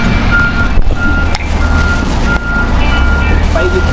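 A dump truck loaded with soil backs up at a road concreting site, its reversing alarm beeping steadily in a repeating high tone over a loud, continuous engine rumble.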